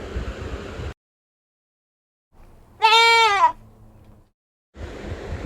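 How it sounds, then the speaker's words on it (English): A single goat bleat of about half a second, clear and harmonic with a wavering pitch, stands alone between stretches of silence, with faint noise around it. "G-O-A-T, goat."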